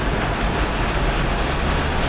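Heavy rain pours down in a thunderstorm downpour in Georgia, a steady dense hiss of drops hitting surfaces that stays loud and even throughout, with no voices.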